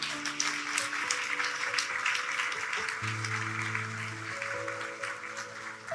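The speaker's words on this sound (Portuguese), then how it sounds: "Dê um aplauso a ele nessa noite." A church congregation applauds steadily, a dense patter of clapping, while sustained keyboard chords play underneath.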